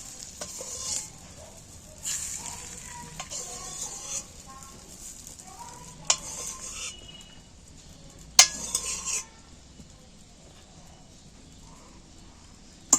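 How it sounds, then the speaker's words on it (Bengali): Raw green mango pieces being stirred with oil and spices in a bowl, with repeated soft scraping and clinking of a spoon against the dish and a few sharper clinks, close and fairly quiet. "তেলের সঙ্গে একটু মিক্সড করে নিচ্ছি আমের সাথে।"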